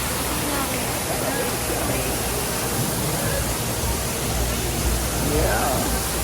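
An indoor waterfall inside a rainforest-themed restaurant roars as a loud, continuous broadband rush that fills the whole scene, steady throughout with a faint background voice or two beneath it.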